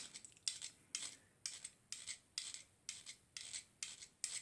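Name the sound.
filing ends of Dinky Ford Anglia die-cast model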